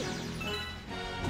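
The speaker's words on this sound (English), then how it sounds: "I'm smashing my face through glass." Glass smashing during play of the video game Super Mario Galaxy 2, a dense, crashing burst that fills the whole moment at steady loudness, with a sharper hit right at the end; no talking.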